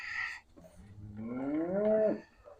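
A cow on a farm lets out a single drawn-out moo that rises slightly in pitch before breaking off, following a short burst of other noise.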